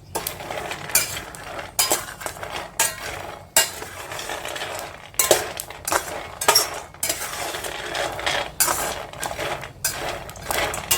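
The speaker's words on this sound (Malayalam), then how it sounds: "കടല ഏകദേശം പരുവായി വരുന്നേ ലോ ഫ്ലെയിമിൽ ഇളക്കുക" Roasting peanuts stirred in a steel pan for peanut candy: repeated close scraping and rattling strokes of a spoon against the metal, in an uneven rhythm, with a faint sizzle and no talk.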